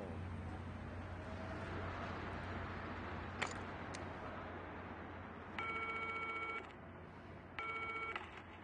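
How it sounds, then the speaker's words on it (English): Telephone keypad dialing in the horror game Still Wakes the Deep, set on an offshore oil rig: two short bursts of beeping dial tones over a loud steady rumbling background hum. "Check in with Roy on the phone."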